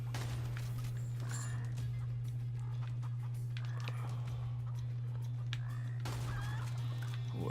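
Chickens cluck and gobble in the video game Immortal Redneck, several fowl calls scattered over a steady low game hum, fairly quiet and without talk.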